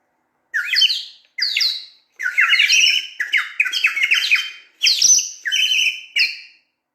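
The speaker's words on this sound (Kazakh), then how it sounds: "Құс сайрауыққа ұқсайды балалар." Recorded birdsong plays as a series of bright, clear chirping and warbling phrases, about eight bursts separated by short silences, loud and close with no voices.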